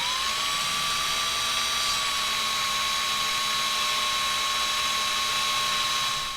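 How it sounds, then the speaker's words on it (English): Steady, high whining power drill grinding a pointed edge onto a custom Star Wars Black Series lightsaber blade, loud and continuous throughout with no talking. "we're going to put on a pointed edge to this using this drill bit."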